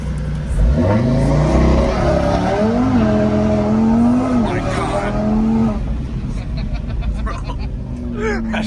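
Single-turbo N54 BMW 335is launching at full throttle, engine pitch sweeping up through rapid gear pulls, loud and close from inside the car, with people talking over it.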